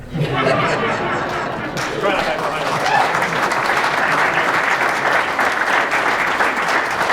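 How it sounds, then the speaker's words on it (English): Sustained audience applause fills a charity event hall, dense and steady for the whole stretch with faint chatter and a few chuckles mixed in. "he deserves all that applause."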